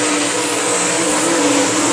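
Great Lakes Super Sprints sprint race cars battle on the I-96 Speedway oval, their engines a loud, continuous, close roar throughout with no breaks or talking.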